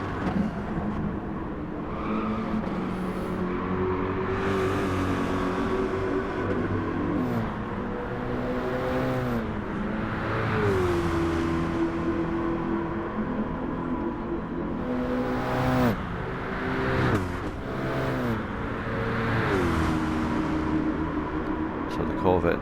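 Chevrolet Corvette race car in Gran Turismo 7 during a Nations Cup online race, with engines rising and falling through gear changes and tire squeal, under continuous race commentary.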